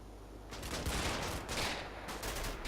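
Bursts of MG machine-gun fire rattle across a Combat Mission Normandy battlefield, rapid rolling volleys in two or three clustered bursts, loud and close with a low rumble beneath.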